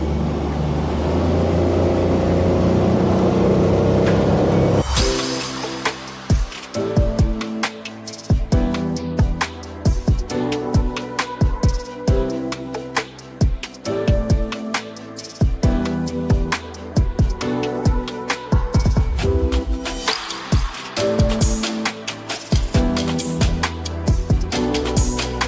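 Suzuki 40 EVO outboard engine pushing a roughly 5-meter Marlin boat up onto plane, loud and close, with a heavy droning rumble at first giving way to a higher steady motor note amid choppy bangs and splashes of the hull hitting water.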